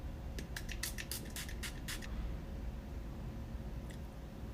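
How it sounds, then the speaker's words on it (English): An activating spray for a peel-off lip product hisses in a quick burst of several short pumps, faint and close, followed by near quiet with one last brief spritz. "The next step is this activating spray."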